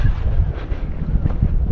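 Strong mountain wind buffets a microphone outdoors in the Pyrenees near Béout, Estaing and Viscos, a loud, continuous low rumble with gusty swells and no voices.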